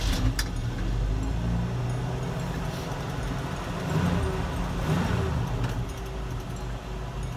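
A 1981 Jeep CJ7 rumbles steadily as it pulls away on a test drive, with a constant low engine drone, a few jangles and clicks, and no talking.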